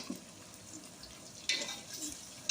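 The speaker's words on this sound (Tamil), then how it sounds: "வெங்காயம் கொஞ்சம் நல்லா வதங்கட்டும்." Onions sizzle softly as they sauté in a pan for biryani, a faint steady fry with a couple of brief clinks of stirring.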